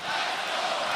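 A basketball arena crowd roars at a Knicks versus Raptors NBA game, a loud, dense, sustained cheer filling the space.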